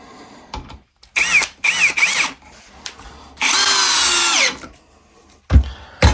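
A BAUER 20V brushless cordless 1/2 in. drill/driver revs up in several short high-speed bursts, then holds one longer whirring run before stopping, loud and close with no talking.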